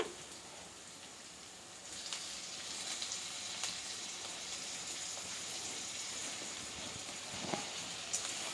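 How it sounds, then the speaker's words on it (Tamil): Ginger garlic paste sautéing in a pan while cooking black chana masala, a steady soft sizzle and crackle throughout with a few faint clicks, close and fairly quiet, no talking. "நம்ம இஞ்சி பூண்டு பேஸ்ட் போட்டதுக்கப்புறம் ஒரு ஒரு நிமிஷம் வதக்கிட்டால் போதும்"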